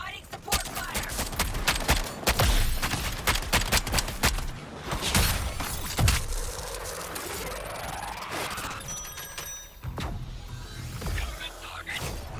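Dense, rapid support gunfire in the Suicide Squad video game, with sharp shots repeating throughout amid whooshes and combat noise, loud and continuous, with game voices now and then.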